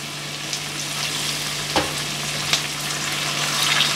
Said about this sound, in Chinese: 咁我哋煎一煎佢啦